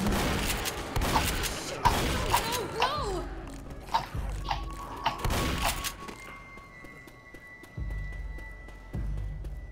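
Gunfire in the Left 4 Dead video game comes as scattered, mid-distance shots and thuds during the first six seconds, followed by quieter stretches with faint low rumbles.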